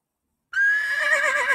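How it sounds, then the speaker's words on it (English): Half a second of quiet, then a single loud horse whinny rings out nearby, high and quavering. "Neigh is the sound of the horse."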